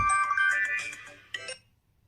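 A mobile phone rings with an incoming automated call from STC Bank, a melodic ringtone playing for about a second and a half, close and clear, before it stops.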